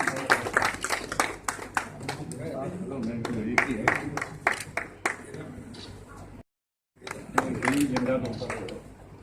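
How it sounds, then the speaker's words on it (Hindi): Audience at a community welcome and honouring ceremony in Udaipur claps to greet a guest, bursts of claps scattered under a voice on a loudspeaker, with a short silent gap near the end. "तालियों से स्वागत करें।"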